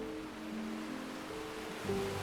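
Sea waves wash steadily around a ferry crossing open water in the Andaman Islands toward Havelock Island, a continuous broadband rush over a low, droning engine hum.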